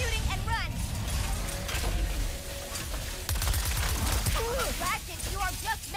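Weapons firing in Ratchet & Clank: Rift Apart, a dense, steady barrage of mechanical gunfire and whirring effects running throughout, loud and continuous, with chirpy synthetic sound effects layered on top.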